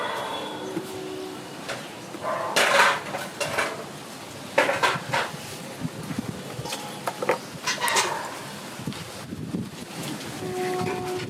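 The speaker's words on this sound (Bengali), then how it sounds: "এইভাবে লাউগুলো আমি সব কেটে নিচ্ছি" A knife cutting bottle gourd, with irregular sharp chops and knocks against a board and some scraping, close and fairly loud, with no talk.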